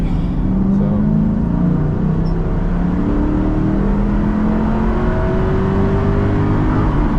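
A stock 1998 Ford Mustang Cobra with no gear or exhaust modifications accelerating, its engine droning loudly and steadily with gradually rising pitch as heard from inside the car.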